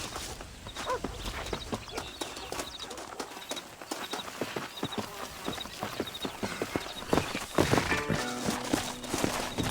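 Horse hooves clop steadily at a riding pace in Red Dead Redemption, a continuous rhythmic gallop close by with light outdoor ambience and a brief voice near the end.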